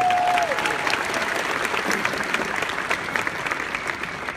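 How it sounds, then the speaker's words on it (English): A crowd applauds at a business promotion event, dense and sustained clapping at steady volume for several seconds, with occasional sharper individual claps standing out. "give yourselves a round of applause"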